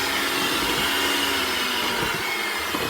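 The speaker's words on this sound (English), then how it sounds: "I turn my mixer down to low so that way I won't get powdered sugar all over the counter." Electric mixer whirring steadily on low while powdered sugar is worked into carrot cake frosting, a loud, continuous even hum with no pauses.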